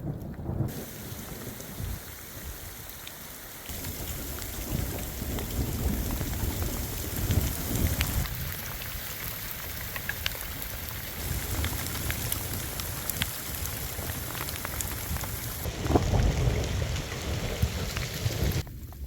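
Steady heavy rain hissing on surfaces with occasional low rumbles, intensity shifting over time, no voices.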